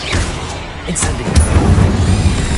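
Incendio fire spell cast in Hogwarts Legacy, a loud burst of whooshing flame with sharp crackling pops that keeps roaring for a couple of seconds.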